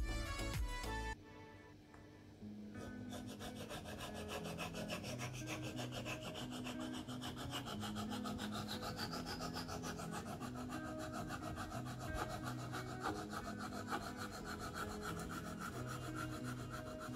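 Straight razor blade, a French Sisatol from Thiers, being honed on a coarse Atoma 400 diamond plate: a steady, continuous abrasive rasping with back-and-forth strokes, close and loud, running without talk after a brief start.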